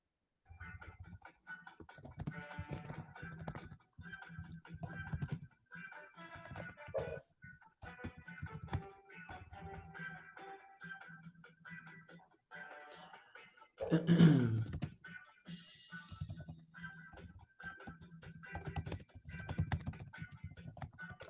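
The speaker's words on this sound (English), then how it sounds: "I'm just typing this text up" Computer keyboard typing during a livestream setup: a steady, close run of soft key clatter with short pauses and a louder, denser burst partway through.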